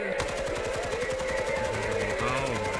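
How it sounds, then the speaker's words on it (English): Video game gunfire rattles in a rapid, continuous automatic burst with no pauses, loud and close throughout. "He's shooting without a magazine."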